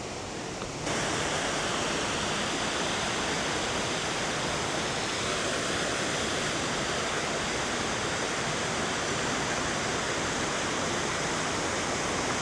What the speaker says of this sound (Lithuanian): Upelis toksai siaurutis, bet metriukas koks gylio yra. Tai va čia, kaip aš matau, yra vanduo nukreipinėjamas.